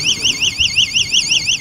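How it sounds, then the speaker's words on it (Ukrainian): A border perimeter sensor alarm on the Ukrainian-Polish frontier wails loudly in a fast, warbling siren pattern that rises and falls repeatedly, with no voices. "Коли сигналізація спрацьовує,"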